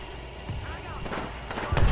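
Airstrike explosions in a video game land as a series of booming bursts, the heaviest hitting at the end, mixed with a player's voice.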